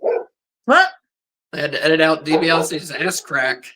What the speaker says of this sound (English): Ripley, give it a rest. That's our dog.